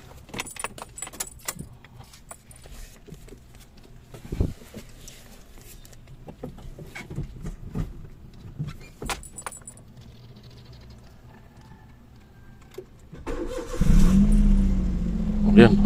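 Keys jangle repeatedly up close in a 2013 Suzuki Celerio before its engine cranks and starts near the end, rising into a loud close rumble.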